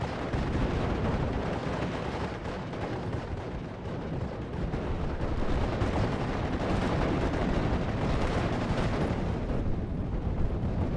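Artillery fire in the WWII strategy game Steel Division 44, with Scottish infantry facing Fallschirmjäger: a dense, continuous rumble of booming shots and gunfire rolling on steadily throughout, loud and without speech.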